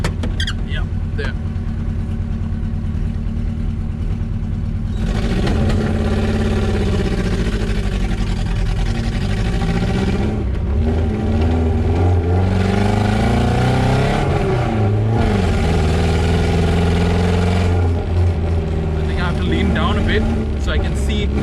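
Engine of a vintage Mercedes S123 with weak brakes, pulling away in first gear and running while driving, a steady low drone that rises and falls with revs as the car accelerates, with someone talking over it at the start.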